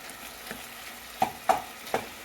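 Sausage sizzles in a frying pan as it is mashed and browned, with three distinct scraping, stirring strokes of a utensil against the pan over a steady, soft crackle of frying, close and clear with no talk.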